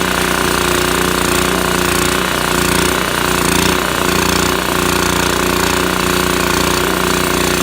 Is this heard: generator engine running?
yes